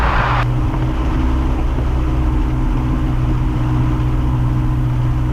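A Piper Cherokee's engine runs up to 1700 RPM on the ground, a loud, steady, droning hum with strong low tones that holds evenly throughout.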